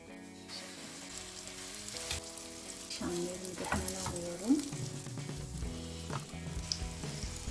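Zucchini fritters fry in a pan with a soft, continuous sizzle running under tonal background music, with a few faint clinks and scrapes along the way.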